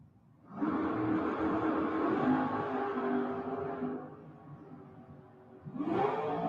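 A Chevy Vega drag car launches down the strip at a bracket race, a loud engine roar rising for a few seconds, easing off, then a second engine surge starting near the end.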